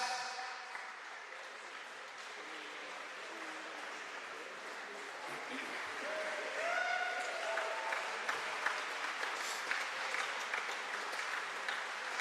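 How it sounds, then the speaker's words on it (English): A large crowd claps continuously for a long stretch, steady and dense, with occasional faint whistles and cheers mixed in, as the English team leaves at a wheelchair rugby Ashes test in Queensland. "Now keep the applause going, ladies and gentlemen, for the English team as they make their way out."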